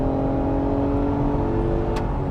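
2022 Acura MDX V6 with 10-speed automatic accelerating in sport mode, a steady, rising engine hum heard from inside the cabin, continuous and moderately loud with no talk.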